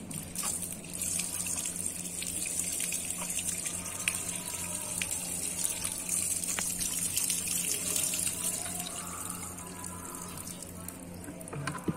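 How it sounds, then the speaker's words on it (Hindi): Water gushes and splashes steadily from a tipped bucket during a colourful water ball experiment at home, a continuous close pour lasting the whole stretch with no voices over it. "हमको इसका पानी निकाल देना है"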